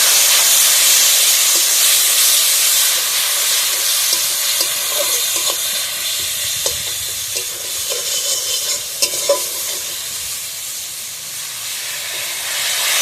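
Water splashed onto hot frying spices for a river fish curry, a loud hissing sizzle that gradually softens, with scattered stirring clicks and scrapes close by, no speech.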